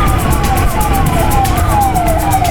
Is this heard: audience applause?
no